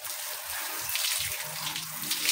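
Water runs steadily from a tap to wet hair before shampooing, a continuous close hiss and splash with small shifts as the flow hits the hair.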